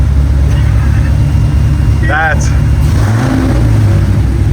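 A Cadillac CTS-V drift car engine idles with a constant low exhaust rumble, heard from inside the car, while people talk briefly over the steady drone.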